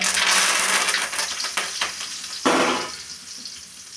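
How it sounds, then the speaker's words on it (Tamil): Mustard seeds splutter in hot oil with dense crackling, a sharp burst midway, then a quieter sizzle as the popping dies down. "கடுகு போட்டுக்கலாங்க. கடுகு பொரிஞ்சிச்சு, கருவேப்பிலை சேர்த்துங்க."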